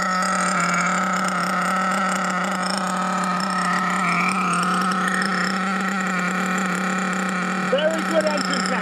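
A 2021 HPI Savage X4.6 nitro RC truck engine runs steadily at a high, buzzing idle, loud and close, with a faint voice underneath.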